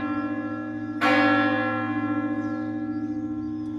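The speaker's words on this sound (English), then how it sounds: "10 o'clock bells." Church bell in Arcos de la Frontera striking ten o'clock, a single loud clang with a long, ringing metallic decay that hums on over a low steady drone, quiet before the strike, no voices.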